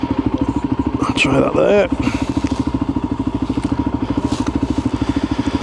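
A Voge 300 motorcycle engine runs with a steady, loud, pulsing idle throb close by while someone speaks briefly over it and something clatters.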